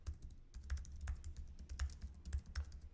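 Typing on a computer keyboard while writing code, with quick uneven runs of close, crisp key clicks and heavier thumps, steady throughout with no talking.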